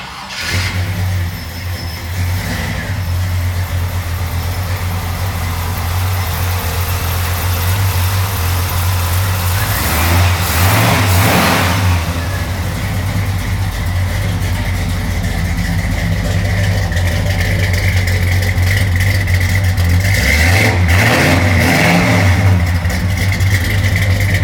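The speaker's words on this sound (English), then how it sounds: "I'm going to have Sheldon go ahead and crank it so you can hear it run." A 1955 Chevrolet Bel Air's 355 V8 engine idles with a deep, steady rumble, revving up twice in loud bursts before settling back to a low throb.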